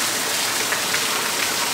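Steady rain from Hurricane Darby pours down on Oahu, a dense, continuous hiss of drops on surfaces with no breaks, close and fairly loud throughout.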